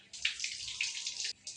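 Tap water runs while soaked chana dal is rinsed in a kitchen for a lentil-ball curry, a close steady splashing stream that breaks off briefly near the end.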